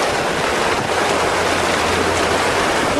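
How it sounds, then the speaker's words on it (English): A truck pushes through flood water near a bridge in Tucson, Arizona, during 2006 flooding, sending out waves: a steady, loud broadband wash of churning water with a faint low engine hum beneath. "we're creating waves"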